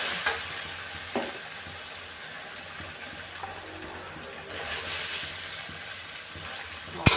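Chicken breast stir-fried with curry paste for a Thai chicken and pumpkin curry: a continuous hissing sizzle, with a few sharp scrapes and clinks of the utensil against the pan.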